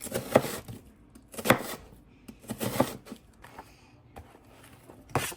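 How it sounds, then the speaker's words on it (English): Knife slicing an onion on a cutting board, a series of crisp, close chops spaced roughly a second apart with quiet pauses between strokes. "I'm going to slice up an onion."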